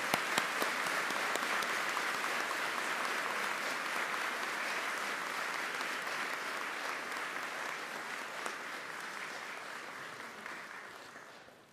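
A long, steady round of applause from a commencement audience honoring graduates of a Baptist college and academy, dense clapping that holds at full strength for about eleven seconds before tapering slightly at the end, with no talk over it.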